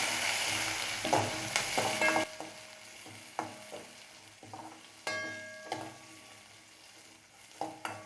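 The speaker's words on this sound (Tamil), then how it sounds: "கருவேப்பிலை, எல்லாம் சேர்த்து நல்லா வதக்கலாம்" Curry leaves, chillies and onions sautéing in a pan for a masala potato dish, a fading sizzle broken by repeated sharp scrapes and knocks of a spoon stirring, close and without speech.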